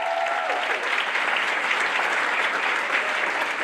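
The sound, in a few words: audience applause for the faculty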